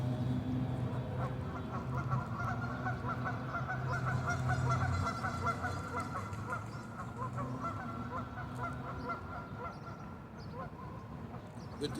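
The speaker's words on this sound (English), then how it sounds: "the ducks got to make a sound on that" Ducks call out beside a lake in a steady run of honking, quacking cries that carry on for the full stretch, fairly close, with no talking.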